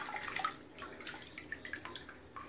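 A hand swishes through bath water in a filled bathtub, making soft, close sloshing and light splashing with scattered drips, quiet and irregular.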